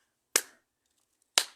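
Two sharp, isolated claps about a second apart, close and fairly loud, applauding Dorcas, the wife of the man called the black cat, with silence between them.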